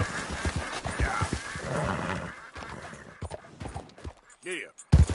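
Horse hooves and whinnying from Red Dead Redemption 2 play under near-constant talking, with a busy mix of rhythmic clopping and a brief sharp burst near the end.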